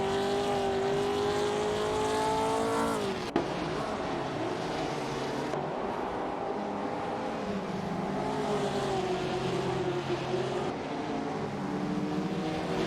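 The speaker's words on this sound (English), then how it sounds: "As we're watching the racing cars driven by artificial intelligence in this intense simulator" AI-driven 1950s sportscars race in a simulator video game, their engines whining steadily at moderate volume, with a sudden pitch drop near the start as one car shifts or passes and a continuous race drone afterward.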